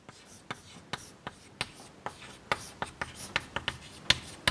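Chalk or marker taps and strokes on a board during a math lecture, in a string of short, crisp knocks and scrapes at an uneven pace, close and moderately loud.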